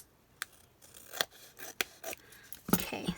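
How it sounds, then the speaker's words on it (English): Scissors snip and trim a paper craft piece in a quiet room, a handful of separate short cuts with pauses between them. "Trim that off the bottom."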